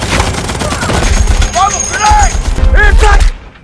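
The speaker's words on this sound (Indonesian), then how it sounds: "Saat meminta sebuah granat kepada Bible, tanpa sengaja dirinya terkena tembakan tepat di kepalanya." Rapid bursts of gunfire and booming shots crackle through a World War II tank battle against Nazi troops, dense and loud throughout, with shouted voices and whistling tones cutting in over the shooting before it cuts off near the end.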